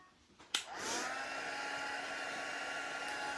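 Heat gun blowing steadily to melt embossing powder for a gold and black double emboss, a sharp click at switch-on followed by a constant close whooshing hiss that runs to the end.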